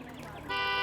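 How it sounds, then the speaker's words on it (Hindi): A vehicle horn blares suddenly and continuously after a short stretch of talk, loud and close. "हॉर्न पहले ही बज रही है"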